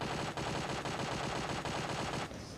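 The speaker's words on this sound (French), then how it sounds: "vous prenez une arme et vous tirez" Rapid automatic gunfire from a video game shooter, a dense continuous burst of shots that stays loud and close from start to finish, with no voices.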